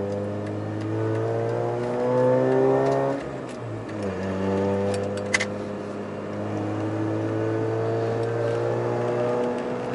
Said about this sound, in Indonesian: Sedap pun bunyi motor ini ni.